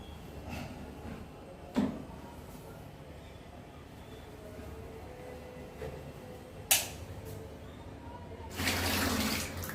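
Water runs steadily, as for filling a bath, with a couple of sharp clacks and a louder gush of flow near the end.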